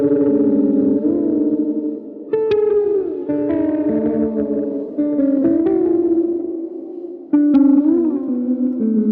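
Electric guitar with its tone knob rolled fully down, played through a Blank Electronics Reaching ambient pedal: sustained, washy chords and swelling notes with long reverb tails, a few brighter plucked attacks cutting in, loud and close with no talking.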